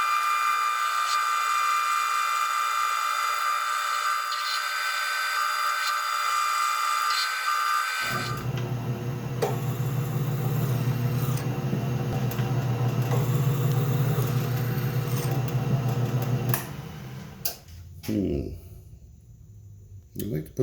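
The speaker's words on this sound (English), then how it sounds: "I'm going to have to drill some holes in these pieces." A workpiece is drilled in a workshop using a stop set up for repeat parts; a steady motor whir starts after a quiet stretch, holds for about nine seconds, then cuts off.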